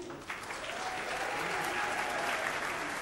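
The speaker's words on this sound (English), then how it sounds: "Ladies and gentlemen, a round of applause once again" Steady, dense applause fills a hall at a formal honour ceremony where Shah Rukh Khan receives France's Chevalier de la Légion d'Honneur, with many hands clapping together at an even, sustained level for the full stretch.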